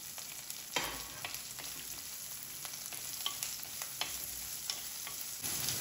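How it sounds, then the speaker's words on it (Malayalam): Chopped garlic, ginger and green chilli sautéing in hot oil in a pan, a steady close sizzle broken by irregular scraping stir strokes, with no talking. "അരിഞ്ഞു വെച്ചിരിക്കുന്ന വെളുത്തുള്ളി, ഇഞ്ചി, പച്ചമുളക് എല്ലാം ചേർത്ത് നന്നായിട്ട് വഴറ്റിയെടുക്കാം"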